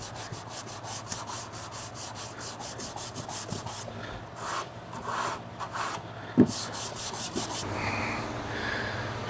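Hand sanding of damaged car body paint with 320 grit sandpaper, a steady repeated rasping rub in close strokes, fairly quiet with brief pauses and a few sharper knocks.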